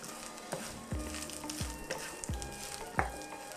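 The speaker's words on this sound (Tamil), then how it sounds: "வார நேரம் துருவி வச்சிருக்கிற தேங்காய் பூ போட்டு நல்லா சேர வறுக்க வேணும்" Grated coconut dry-roasts in a pan while a spatula stirs it for chicken sukka. A soft, crackling sizzle runs under several distinct scraping strokes at a regular pace, close and with no talking.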